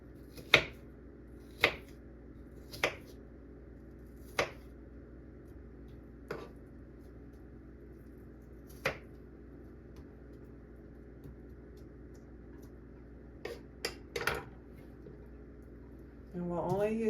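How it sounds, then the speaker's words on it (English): A knife slices through an onion on a board for chili, making about a dozen sharp, separate taps spaced unevenly, close and clear over a faint steady hum. "So we're going to slice the onion."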